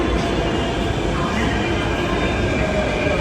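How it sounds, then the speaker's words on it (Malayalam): A Mumbai metro train runs into a crowded station: a loud, steady rumble and roar of wheels and carriages fills the whole stretch without pause. "ട്രെയിന് വന്നിട്ടുണ്ട്, ലൈൻ നിൽക്കണം."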